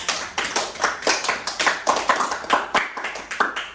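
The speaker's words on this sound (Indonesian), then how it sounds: "Tepuk tangan dulu untuk kita." A small group in a classroom counseling session claps hands in loose rhythmic bursts, about a dozen distinct pulses of clapping, close and moderately loud, with no talk.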